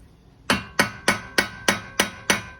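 Seven light, evenly spaced metallic hammer taps on the main nut during engine and gearbox removal from a Golf GTI Mk5, close, sharp and ringing briefly after each strike.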